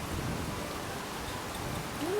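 Rain falls steadily outdoors as a soft, continuous hiss of drops on surfaces, even and moderately quiet, with a faint rising tone near the end.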